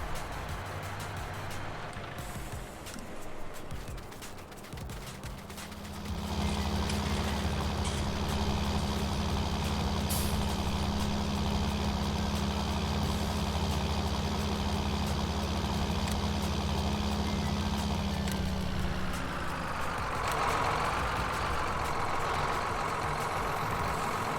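A tractor engine in Farming Simulator 19 idles low, then revs up and holds a steady loud drone with a plough attached, before the pitch shifts near the end.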